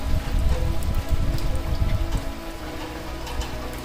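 Heavy rain pours onto a surface close by, a dense steady patter with scattered louder drops, loud and continuous from start to finish with no talking.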